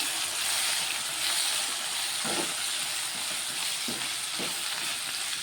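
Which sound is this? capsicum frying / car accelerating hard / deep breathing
capsicum frying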